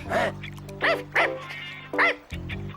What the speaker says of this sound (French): Monsieur Morales, c'est mon chien, il court un grave danger!